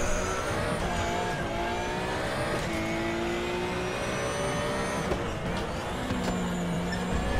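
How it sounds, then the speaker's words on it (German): A Ruf RT 12 R race car in the R3E racing game at Laguna Seca howls loudly and continuously, its engine note climbing through the revs and dropping sharply at each upshift, heard up close from the cockpit. "Du musst immer, wenn diese rote Lampe links angeht, Matthias, dann musst du hochschalten."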